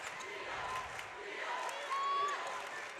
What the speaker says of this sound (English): Sounds like a very pro-Farmington crowd.